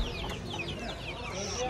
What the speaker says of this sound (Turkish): O da dövüş horozu.